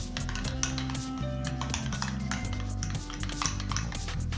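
Ringing clinks of a utensil against a bowl while a garlic sauce is mixed, with scraping stirs and faint kitchen hum in the background.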